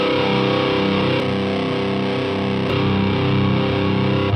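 A sustained, heavily distorted electric guitar chord through an amp simulator, ringing out loud and steady, with brief clicks where the headphone effect is switched on and off.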